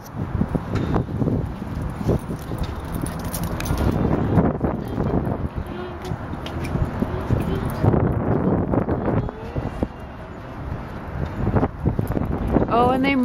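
Gusty wind buffets the microphone throughout, rumbling and roaring in waves while people talk over it, at National Harbor, Maryland.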